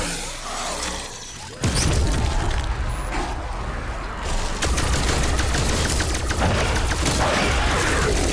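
Continuous gunfire and explosive bursts in Call of Duty Black Ops Cold War Zombies, dense and loud throughout after a quieter opening, with rattling mechanical clatter layered in.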